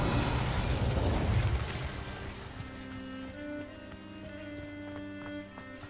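Casting the Revelio spell in Hogwarts Legacy gives a loud, rushing burst that fades over a couple of seconds into a sustained shimmer of ringing, bell-like tones, heard alone without talk.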